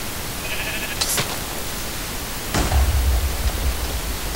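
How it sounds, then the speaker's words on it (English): A sheep in the Minecraft video game gives a couple of short bleats over a steady hiss of background noise, followed by a low rumbling stretch. "Poor sheep."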